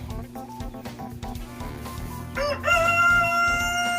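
A free-range rooster crows loudly and close by, with a long drawn-out cock-a-doodle-doo rising over the softer clucks and scratching of hens at ground level.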